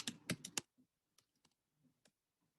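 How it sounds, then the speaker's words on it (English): A computer keyboard being typed on, a quick burst of four sharp keystrokes followed by a few softer scattered clicks and thumps, close and clear in a quiet room. "let me just go ahead and type radian."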